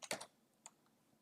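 A few quick, soft keystrokes on a computer keyboard in a quiet room, a short cluster of clicks followed by a single faint tap.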